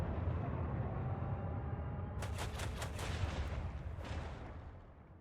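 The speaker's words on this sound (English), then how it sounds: "And now we can come down and do our port cannons" Port cannons fire in a space combat video game, a quick cluster of sharp booming blasts rolling over a constant low engine-like rumble, with a final shot following after a short pause.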